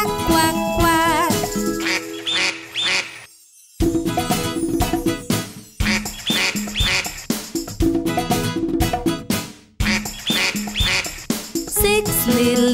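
Cartoonish duck quacks sung within a children's nursery rhyme about six little ducks, bright repeated quacking mixed with music and jingly tones in rhythmic bursts, separated by brief pauses.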